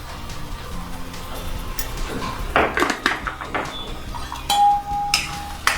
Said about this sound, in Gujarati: હવે આને સતત હલાવતા રહીને ગોલ્ડન બ્રાઉન થાય ત્યાં સુધી ચડવાની છે।